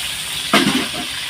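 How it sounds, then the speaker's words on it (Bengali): Water is poured into a cooking pot for a mustard tengra fish curry in one short splash, close and fairly faint, with no talking. "দেখুন জলটাকে আমি দিয়ে দিলাম"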